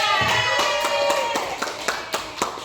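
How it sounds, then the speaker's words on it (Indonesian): A small group claps for a team after a classroom teaching simulation, scattered hand claps tapping out an uneven rhythm, fairly close, with faint voices and a sustained tone running underneath. "Tepuk tangan untuk kelompok A."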